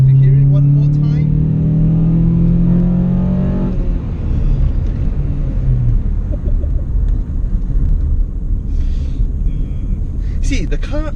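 A 1998 Honda Accord Euro R CL1 with a manual gearbox revs hard in a loud, close rising sweep, then drops to a rumbling idle with occasional blips, and speech is heard over the engine.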